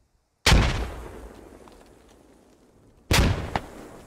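Two loud, sharp frag grenade blasts in the video game Squad, each a sudden close bang followed by a long rumbling decay, about two and a half seconds apart, with no talk.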